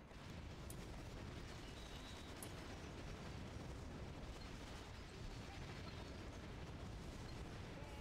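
Battle in the Battalion Wars 2 video game as HQ defenses are destroyed, a dense, continuous wash of rumbling explosions and mechanical noise throughout, fairly quiet overall with no clear breaks.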